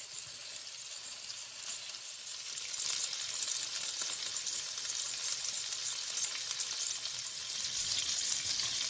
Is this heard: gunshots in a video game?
no